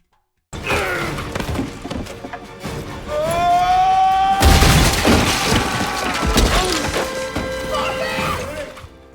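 Walls smashed through in The Matrix: Path of Neo video game, heavy crashing and shattering impacts with debris, loud and close over a busy game soundtrack.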